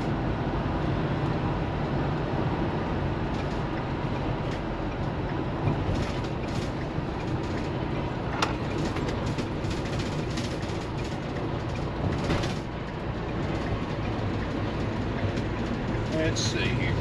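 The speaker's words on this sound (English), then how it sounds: "We'll see what kind of acceleration we get on the on-ramp." A 2017 Thor Four Winds 24F Class C motorhome accelerates up an interstate on-ramp. A steady loud cabin roar of engine and road noise comes with rattles and occasional clunks from inside the vehicle.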